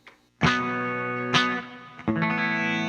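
Clean, compressed electric guitar chords through an Ibanez PT5 struck three times, each ringing out with long even sustain and a smooth, squeezed attack.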